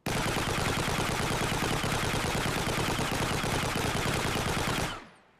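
Sustained rapid automatic gunfire from a weapon in an Unreal Engine 5 shooter game, a dense unbroken burst of shots lasting about five seconds, loud and close, then cutting off abruptly.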